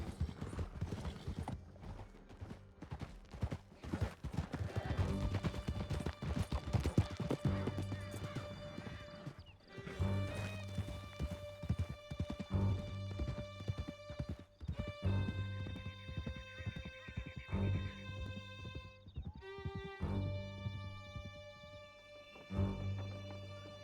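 Horse galloping in Red Dead Redemption 2, with quick rhythmic hoofbeats close and loud throughout, whinnies breaking through and a sustained musical score playing underneath.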